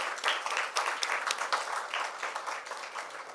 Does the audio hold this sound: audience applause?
yes